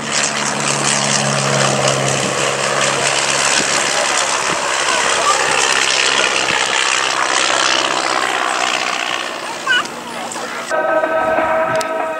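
A Miles Whitney Straight vintage propeller aeroplane flying at an airshow, its engine droning loudly and steadily for several seconds, then dropping away near the end, with faint crowd and commentary around it.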